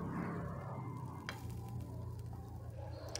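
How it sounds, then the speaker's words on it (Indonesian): Peeled shrimp cook in a pan with ground chili, garlic and tomato, giving a steady close sizzle with a few stirring scrapes and clicks. "Masukkan 250 gram udang yang sudah dikupas. Lalu masak bersama-sama."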